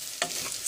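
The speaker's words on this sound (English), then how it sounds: "Give this a stir." One quick scrape of a spoon through rice, salt and seasonings in hot oil, over a soft frying sizzle, close by and brief.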